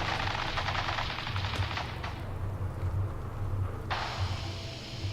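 Gunfire in the Fallout 4 video game crackles in rapid, sustained bursts over a rumbling low background, continuous and fairly distant, with no talk.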